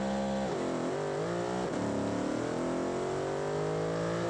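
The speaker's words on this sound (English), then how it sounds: "Stick the nitrous on, rev it up, and send it." Revving engine of a roughly 2000 hp nitrous drag car in the Automation game, climbing hard in pitch through quick gear shifts as it accelerates, loud and continuous with no talk.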